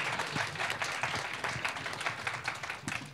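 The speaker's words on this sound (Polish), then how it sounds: "Wielkie brawa." An audience at a philanthropy summit debate in Poland applauds, a steady round of many hands clapping at moderate volume without speech.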